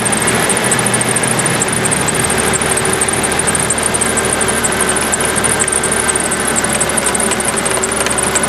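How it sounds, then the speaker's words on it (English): A running engine being checked after its fuel injectors were unclogged holds a steady, loud, rapid mechanical ticking over a constant idle hum throughout, with no talk. "You can hear them firing, and they're firing good."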